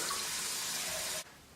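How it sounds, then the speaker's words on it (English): Water pours steadily from a tap into a pot over chicken for bone broth, a constant close hiss and splash that cuts off abruptly near the end, leaving quiet room noise. "So you just add enough water to cover the chicken"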